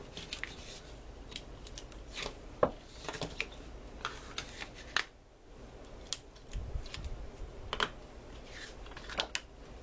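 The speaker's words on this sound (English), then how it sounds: "I'm going to remove the tape backing and just adhere this down." Tape backing being peeled and handled while assembling a mini album, giving faint, close, intermittent crackles and sharp ticks scattered across a quiet background.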